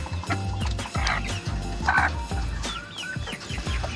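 Hen clucking while eating feed in a coop, soft repeated low clucks with pecking sounds, close and steady, with a few brief higher calls.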